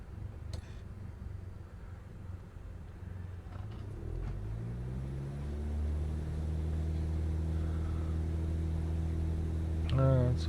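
A plane's engines spool up for takeoff in a flight simulator game, a low drone that builds and rises steadily in pitch over the second half and stays fairly soft.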